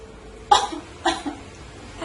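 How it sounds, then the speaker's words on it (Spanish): Two short, sharp coughs about half a second apart from a single person during a virtual class, close to the microphone, with quiet room noise in between. "cuando alguien está con tos, ¿cómo tose?"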